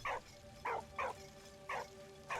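A dog barks five times in the World War I video game Valiant Hearts, short sharp yaps in an uneven rhythm, fairly close and alone over a faint game background hum.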